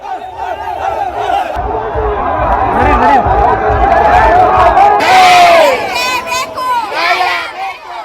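A large agitated crowd of young protesters in Kathmandu, Nepal, shouts slogans loudly in unison, with surges of yelling and overlapping chatter throughout.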